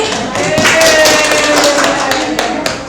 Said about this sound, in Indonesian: Tepuk tangan untuk Umi.